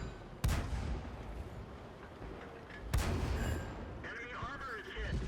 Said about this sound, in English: we try and get a shot on the SU-85, and yes, we do penetrate him